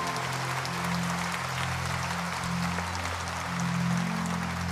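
Congregation applause fills a church worship service with dense, steady clapping over sustained low tones from music underneath, lasting several seconds without a break.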